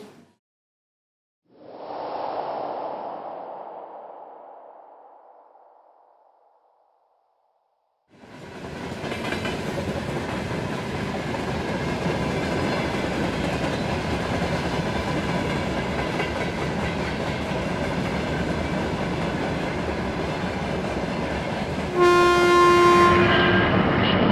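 Archival museum footage of a train near Žasliai railway station: a passing rush swells and fades, then a long, steady rumbling clatter of wagons on the rails ends in short horn tones.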